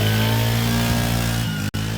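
A motorcycle engine revs loudly and close by, a buzzy rasping drone with a drop in pitch then a brief cut before it picks up again.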